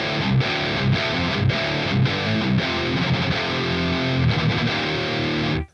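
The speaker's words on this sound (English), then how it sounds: "number 1, a Revv 4x12 completely dry" Heavily distorted electric guitar through a Revv G20 amp into a dry Revv 4x12 cabinet, playing a steady chugging riff with short rhythmic breaks, loud and close with no voices, cutting off abruptly at the end.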